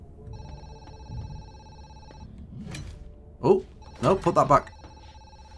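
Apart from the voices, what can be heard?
telephone ringing in the video game Zoochosis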